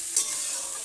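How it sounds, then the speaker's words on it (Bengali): Cauliflower florets with a little turmeric and salt frying in a pan, giving a steady close hiss of sizzling oil with a brief clatter of stirring near the start. "ফুলকপি ভাজা হয়ে গেছে"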